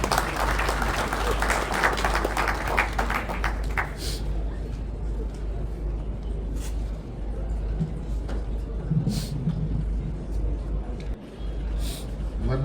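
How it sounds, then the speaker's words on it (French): Crowd applause at the closing ceremony of the 21st DRC Mining Week, loud and dense at first, then thinning into scattered clapping and murmuring voices across a large hall. "sous vos acclamations, s'il vous plaît."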